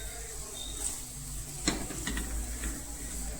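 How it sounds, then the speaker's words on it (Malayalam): Chicken curry masala mix being stirred in a pan gives a faint, soft sizzle with a few light spoon scrapes and clicks, close and quiet, with no talking. "ഇനി ഈ മസാലക്കൂട്ടിന്റെ പച്ചമണം മാറുന്നിടം വരെ കുറച്ചു നേരം ഇളക്കിക്കൊണ്ടിരിക്കുക"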